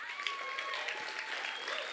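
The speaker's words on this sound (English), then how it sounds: "I'd like to ask for a round of applause for runner-up Y East Gardens" Applause for the runner-up at a cannabis cultivation awards ceremony, steady clapping from an audience with a faint tonal hum underneath.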